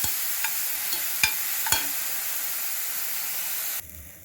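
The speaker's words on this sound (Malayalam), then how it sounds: "ഉള്ളി, പച്ചമുളക്, വെളുത്തുള്ളി ഇതെല്ലാം കൂടെ അരിഞ്ഞു വെച്ചത് നമുക്ക് എണ്ണയിലിട്ട്" Chopped onion, green chili and garlic fry in oil with a soft steady sizzle, broken by a few sharp stirring clicks early on. The sizzle cuts off abruptly near the end.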